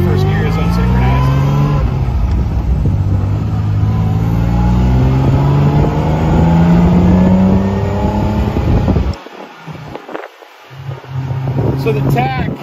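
Engine of a 1967 Austin Healey 3000 MkIII droning steadily while driving, a loud continuous note with gear-change dips near the end.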